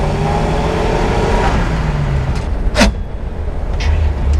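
A 1939 Plymouth convertible runs with a low engine rumble under way; the engine note shifts and dips partway through as gears are changed, with a brief mechanical clunk and some road noise, and no voices.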